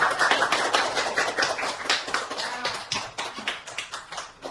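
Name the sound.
classroom applause for a student's question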